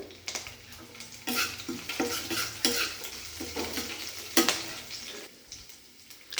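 Curry leaves sizzle in hot oil in a pan for a mushroom curry, a soft steady frying hiss under repeated clinks and scrapes of a spoon stirring, close by with no talk.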